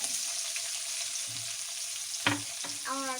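Onion frying in melted butter in a pan, a continuous close sizzle followed by a few louder scrapes and clinks of stirring near the end; no speech.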